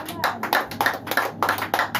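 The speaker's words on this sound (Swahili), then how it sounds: "Pigia Bwana Yesu nzuri makofi." A church congregation claps in praise of Jesus, sharp, close hand claps falling in a quick, even rhythm, about three to four per second, with voices faintly present underneath.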